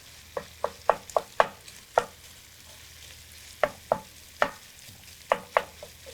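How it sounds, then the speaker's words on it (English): Chorizo stirred in a frying pan while an egg cooks for a breakfast taco: a series of sharp utensil strokes in uneven bursts, close and fairly crisp, over a faint steady sizzle. "Gonna give my chorizo a whirl while that's going."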